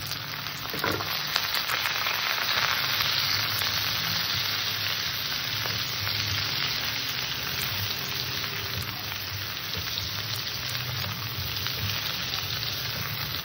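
Ridge gourd pieces tossed into hot oil with already fried potatoes give a loud, dense, steady sizzle that runs unbroken for the whole stretch, with no voices.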